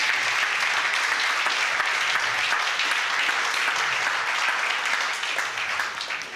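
A church congregation breaks into loud, steady applause that fills the room and tapers slightly at the end.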